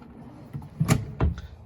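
A soft-closing drawer in a 2022 Rockwood 8288SB fifth-wheel trailer slides along its runners with a soft rumble, then eases shut with a couple of muted thumps, close by and quiet.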